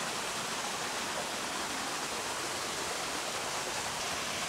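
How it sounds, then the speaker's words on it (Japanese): A small garden waterfall pours steadily, giving a continuous, even hiss of falling water at a distance. It is fairly quiet, unbroken and has no voices over it. "あ、あそこに滝がある。"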